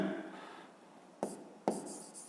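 Hand-writing a math expression with pen on paper during a fifth-grade arithmetic exercise, soft scratchy strokes near and alone, with two sharper taps or pen strikes later on.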